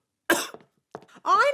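A cartoon character gives two short, gruff coughs close up, then lets out a rising, wobbly vocal sound, all with no background noise.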